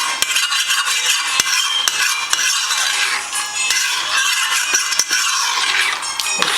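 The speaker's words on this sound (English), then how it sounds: "Alright, so I'm gonna mix this around." Seasonings stirred into a Puerto Rican carne guisado beef stew in a pot: loud, close scraping and swishing of a spoon through the stew, with sharp clinks against the pot's side over a light sizzle.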